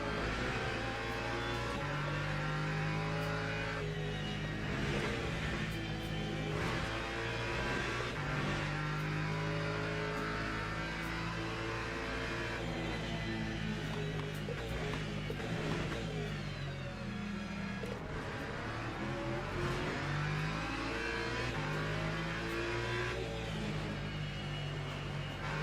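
Video-game hypercars race around Laguna Seca, their engines droning and shifting pitch in a continuous layered whine as cars rise and fall through gears, fairly faint and without talk.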